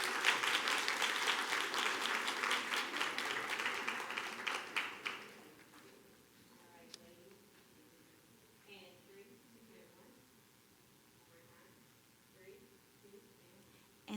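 At a school board meeting, an indoor audience applauds the cheer squad with a dense burst of clapping that fades out after about five seconds, followed by quiet room sounds and faint murmuring.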